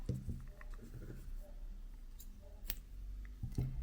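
A few small, quick snips and clicks of scissors cutting crochet yarn while finishing a sunflower granny square, close and quiet, with no talking.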